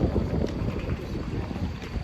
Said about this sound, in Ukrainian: вітер, якийсь дощ, непонятно що